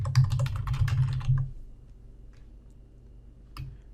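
A computer keyboard is typed on in a quick burst of close, soft clicks lasting about a second and a half. A single further keystroke lands after a pause, and the background is otherwise quiet.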